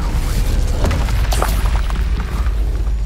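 A Confringo fire blast spell explodes in Hogwarts Legacy on PS5, a loud low boom rolling under dense game ambience and scattered sharp crackles.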